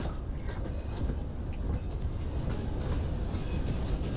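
A video game train runs steadily with a continuous low rumble and faint rhythmic rail clatter, fairly loud and close throughout, with no talking.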